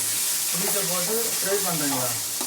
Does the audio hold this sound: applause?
no